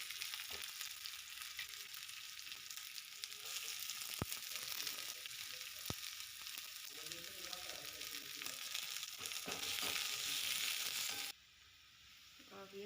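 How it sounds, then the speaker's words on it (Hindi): Onions lightly frying in a pan for a parwal (pointed gourd) dish give a steady broadband sizzle that runs for about eleven seconds with a few faint stirring clicks, then drops abruptly to a quieter hiss near the end. No voices are heard. "हल्का पकाना है प्याज को भी।"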